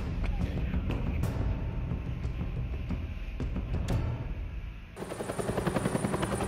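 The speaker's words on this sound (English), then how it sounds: "Alright, a stormy Gotham night. Helicopters in the air." Helicopters rumble overhead on a stormy night in Gotham in the Telltale Batman game, a loud continuous rotor drone mixed with rain and storm noise, with sharp bursts scattered throughout and a shift in tone near the end.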